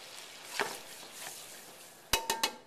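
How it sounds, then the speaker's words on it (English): Pan deglazed with wine for chicken chasseur with mushrooms, soft sizzling under a few scrapes, then several sharp clinks of a utensil against the pan near the end. "So I deglaze again."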